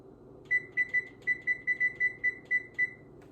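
An oven being set to preheat to 400 degrees beeps about eleven times in a quick, fairly regular series of short, bright, equal tones, loud and close in an otherwise quiet kitchen.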